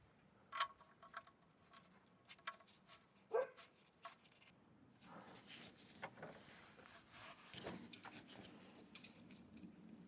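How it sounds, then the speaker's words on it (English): Distant dogs bark in scattered bursts, faint and far off, against low background rumble and occasional clicks. "Sorry about the dogs in the background."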